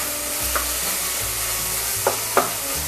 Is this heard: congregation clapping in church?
no